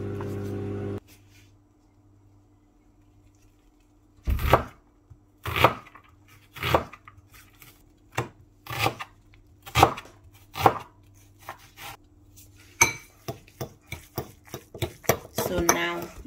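An onion is chopped on a board with a knife, a series of crisp, separate thuds at an uneven pace that turn into quicker bursts near the end, heard close and with no voice over them.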